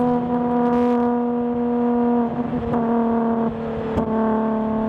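A Ferrari Purosangue V12 holds a strong, steady engine drone with clear harmonic tones, dipping and surging briefly as the gearbox downshifts, loud and close, with no talking.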